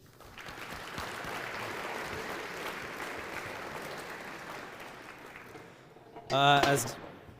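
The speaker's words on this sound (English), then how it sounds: "So I'd like to have a round of applause for Ethan." Audience applause at an annual sports awards banquet, a steady dense clapping that fills the room for about six seconds, then gives way to a loud voice speaking up close.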